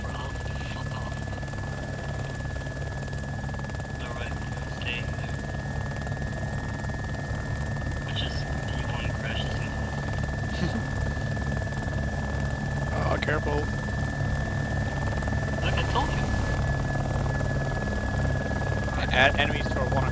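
A video game helicopter flies with a constant heavy rotor thump and engine whine throughout, loud and close, while voices speak over it.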